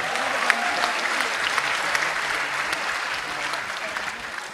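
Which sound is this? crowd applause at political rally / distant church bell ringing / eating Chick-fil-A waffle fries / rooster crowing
crowd applause at political rally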